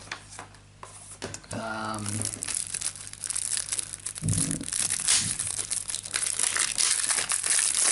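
Crinkling plastic wrapping of a Magic: The Gathering Hour of Devastation Nissa planeswalker deck being torn open by hand, with close, crackly rustling bursts and some tearing while a person talks.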